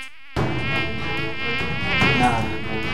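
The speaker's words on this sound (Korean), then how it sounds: "아, 어, 모기 모기." A mosquito whines in a continuous, loud, close buzz with a wavering pitch, starting abruptly after a brief quiet moment and persisting throughout.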